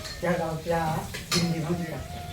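Pots and utensils clink and scrape during communal cooking of pithla, a Marathi gram-flour dish, in an outdoor camp kitchen on a Narmada parikrama pilgrimage, with voices talking over the repeated metallic clatter.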